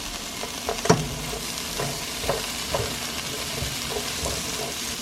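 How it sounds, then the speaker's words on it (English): Broken-up onions fry in a pan for a hot dog and Polish sausage topping, giving a steady close sizzle broken by occasional stirring clatters and scrapes, with no talking. "So we're gonna let these onions cook a little bit"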